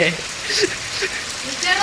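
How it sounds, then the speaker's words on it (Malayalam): Heavy rain falls steadily in a broad, continuous hiss of drops striking surfaces, with voices talking over the downpour throughout. "ഈ വർഷം ഇങ്ങനത്തെ മഴ"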